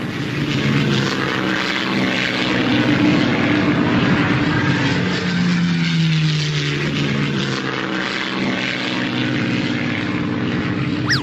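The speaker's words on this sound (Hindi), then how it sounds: "मुझे किसी जहाज की आवाज सुनाई दे रही है" Steady propeller airplane drone passing overhead in a cartoon, a loud, continuous engine hum with a slight pitch sweep as it moves, heard alone without talk.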